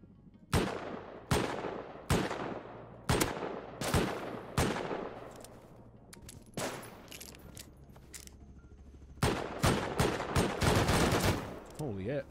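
Heavy guns fire in the video game Rust: sharp, loud single shots spaced about a second apart, a pause, then a rapid close cluster of blasts near the end, with a voice briefly heard.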